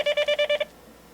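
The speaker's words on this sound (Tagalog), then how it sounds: "Nagre-ring ang telepono." A telephone gives a quick run of about six evenly spaced electronic tones, clear and fairly close, then cuts to quiet room hush.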